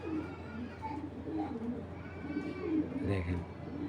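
Giribaj pigeons kept in a fancier's collection coo softly in a low, throaty rhythm, several rolling calls repeating close by while someone talks over them.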